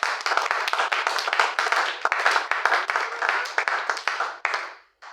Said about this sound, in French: Est-ce qu'on peut applaudir pour le Seigneur?